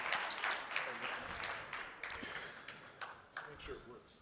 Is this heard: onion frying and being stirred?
no